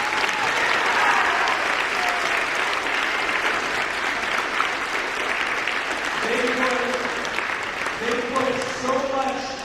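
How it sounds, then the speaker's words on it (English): Sustained, steady applause from a school assembly crowd at a sixth-grade championship, thanking judges, teachers and office staff; toward the end a voice starts speaking over the clapping. "Let's give them a round of applause."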